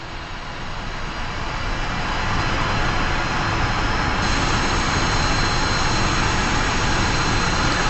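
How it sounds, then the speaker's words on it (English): Jet engine of an F-5 fighter spooling up in the DCS flight simulator, a steady broadband roar that builds over the first few seconds and then holds loud and constant, with a thin high whine running through it. "watching the engine spool up"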